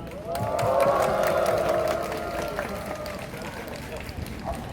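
A large outdoor candlelight rally crowd at Seoul National University claps and cheers together, a dense sustained wash of many hands and voices that swells then slowly eases, with a tonal whistle or cheer line riding above.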